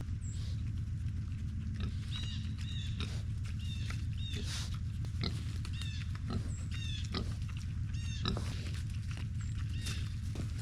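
Pigs, one of them blind, grunt and squeal continuously as they are coaxed into a trailer, with repeated high squeals over a dense low rumbling bed and shuffling hooves nearby.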